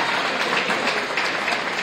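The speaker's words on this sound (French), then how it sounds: "Il y a de quoi applaudir cette grande avancée" During an evening Congolese event in Madrid, an audience bursts into dense, continuous applause, a hiss of many hands clapping together that stays steady for a moment.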